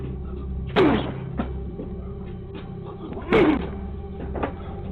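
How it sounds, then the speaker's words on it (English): A man repeatedly slams his body into a front door on a porch: two heavy, loud thuds a few seconds apart with a rattling impact, plus fainter knocks between, no talking. "repeatedly slamming himself into the front door"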